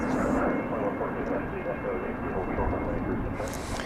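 An airliner engine rumble at DFW Airport during pushback, a constant broadband roar heard close and unbroken with no clear talk on top.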